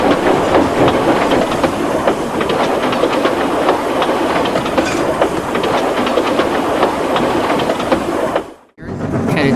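A freight train rumbles steadily along the tracks with rhythmic clickety-clack of wheels, loud and close, cutting off abruptly near the end.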